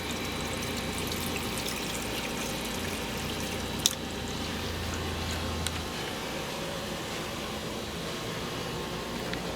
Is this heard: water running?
yes